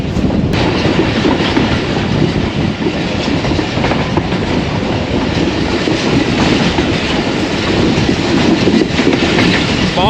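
The 101UP Subk Raftar passenger train rolls through a curve near Lahore, loud and close, with continuous clattering wheels and rumbling carriages sustained throughout.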